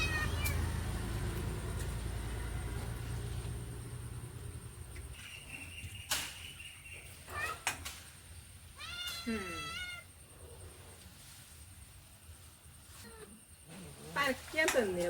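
A cat meows several times in a rural village home during family cooking and eating, the cries fairly close and clear, with people talking around it.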